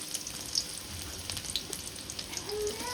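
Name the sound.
onions frying in a pan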